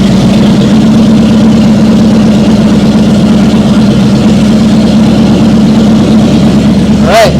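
A 1950 Fargo truck engine idles steadily and loud up close, with the power steering being turned from side to side; a brief higher whine rises near the end.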